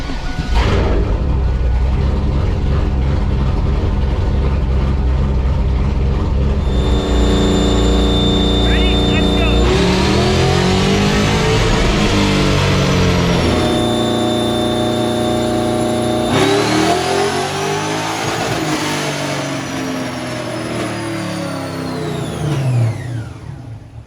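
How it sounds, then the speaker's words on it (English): A car roars through a loud dyno pull on a rolling road, the engine revving up in long sustained sweeps with brief drops between, droning close and constant with no break. "Got the wideband hooked up on the dyno, so we're gonna go ahead and do our first pull."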